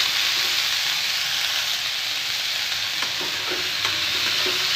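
Radish leaves cooking in a pan with salt give off a loud, dense, continuous sizzle, with a few soft stirring scrapes toward the end.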